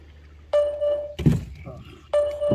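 A boat's fish finder sonar on a carp-fishing lake sounds two electronic tones, each a clean pitched beep held about half a second, with a dull thunk and a brief bit of speech between them.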